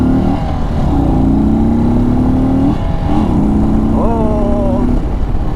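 An Indian Chief Bobber Dark Horse motorcycle accelerates hard on a test ride at the Sturgis rally, its loud engine note climbing in pitch, dropping briefly at gear changes, then climbing again.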